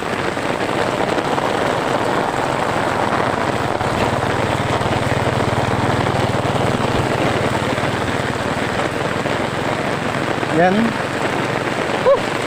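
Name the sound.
heavy rain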